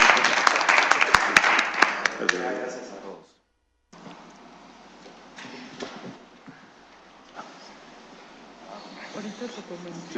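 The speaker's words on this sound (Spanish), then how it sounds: "yo quisiera pedir un aplauso para el presidente" A small group at a council session of the IFT applauds the president: close, crisp hand claps for about three seconds, then a brief dropout, followed by quieter talking voices in the room.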